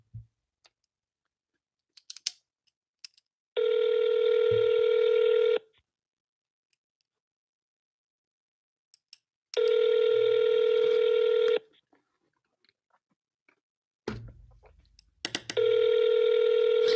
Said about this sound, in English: You're punching your phone number